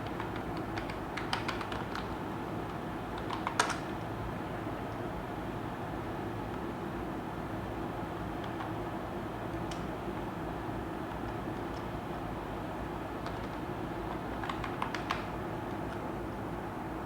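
A computer keyboard being typed on while entering a command, a few short bursts of light clicking keystrokes scattered over a steady background hum.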